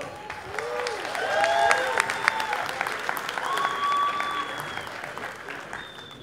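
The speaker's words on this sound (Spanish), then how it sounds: "un fuerte aplauso" Loud applause from a comedy stand-up audience swells and fades over several seconds, dense steady clapping with a few whistles and faint voices mixed in.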